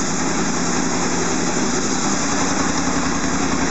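A Honda VFR800 sixth-generation motorcycle engine idles steadily and a little high during starter valve synchronisation, a close, continuous even drone with no talk over it.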